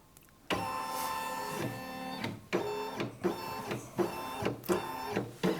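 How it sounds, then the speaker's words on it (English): A Brother Innovis embroidery machine with the Upgrade Kit 1 scans fabric held in its embroidery frame. A motor whir starts suddenly, then continues as a series of rhythmic whining, stepping pulses that are clear and close. "What we're going to do here is scan in the fabric that's in the frame here"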